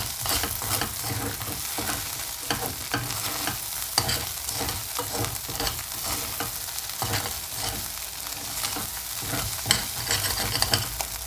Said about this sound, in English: I'm just going to add a dash of salt. And stir it around again.